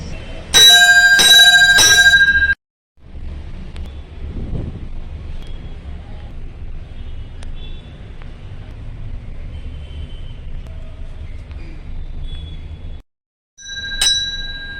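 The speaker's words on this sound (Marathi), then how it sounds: "तुझ्या मंदिरातली घंटा ही वाजवत राहणार." A temple bell clangs in a rapid burst of bright, ringing strikes that break off abruptly. Quieter ambient noise follows, then one more short ring near the end.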